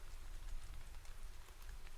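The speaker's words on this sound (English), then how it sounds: "And today it was rain." Rain falls steadily on an October market day, a soft, even patter with scattered faint drops over a low, continuous rumble, quiet and unbroken with no voices.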